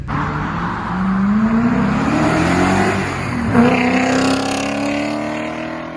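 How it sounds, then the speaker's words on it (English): A BMW E34 530i engine revs loudly through a catalytic converter and muffler delete exhaust with only resonators, raspy and droning, rising in pitch, dipping briefly, then climbing again, close by with no talking. "It's got an exhaust done to it with a Cat Delete and Muffler Delete, just resonators, which sounds pretty nice"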